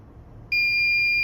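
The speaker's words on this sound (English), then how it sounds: "So if you hear this beep sound, then it's done." A Dahua DVR emits a sharp, loud electronic beep after its password reset, a steady high tone that starts abruptly and holds against faint background hum.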